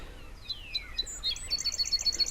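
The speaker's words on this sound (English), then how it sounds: "Gulls out for breakfasts." Gulls call at early morning by the sea on Cape Cod, a sequence of high, bright cries repeating close by, with a drawn-out descending call first and then quicker overlapping calls over a quiet background.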